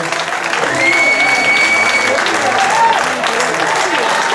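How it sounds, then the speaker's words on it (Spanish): A crowd at a 2020 Zumba event in Azkoitia claps steadily and loudly for several seconds, with a voice briefly calling out over the applause. "Así que quiero un aplauso."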